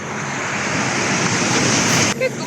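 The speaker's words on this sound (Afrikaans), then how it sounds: "Kyk hoe mooi is die see." Ocean waves washing onto a beach make a loud, continuous roar of surf with wind rushing across the microphone, steady throughout before a brief dip at the end.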